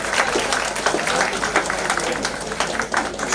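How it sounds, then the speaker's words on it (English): A crowd applauds steadily, a dense patter of many hands clapping at once, sustained and fairly loud. "One more last round of applause for all the people on stage"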